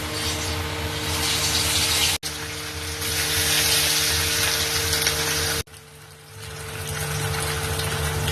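Fish frying in hot mustard oil in a heated kadai gives a loud, steady broadband sizzle over a constant electric fan hum, with two brief cuts in the sound.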